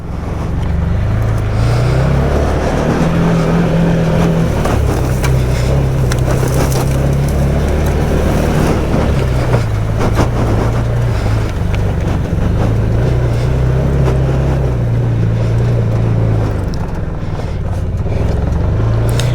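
The engine of a Can-Am Maverick Trail 700 side-by-side runs loud and close for the whole stretch, its revs rising and falling repeatedly in a throbbing drone, with wind noise over it.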